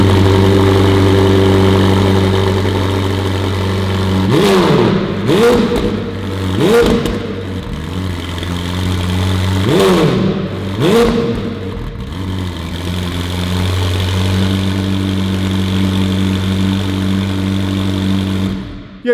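Ferrari 812 with Novitec tuning, its engine idling loudly at close range and then blipped through several sharp revs that rise and fall before settling back to a steady idle.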